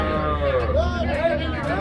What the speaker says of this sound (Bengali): দরকার নেই, এটা গরু ভাই।